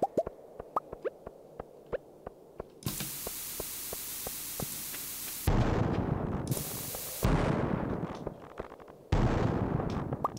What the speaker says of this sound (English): Did not mean to drop a second bomb there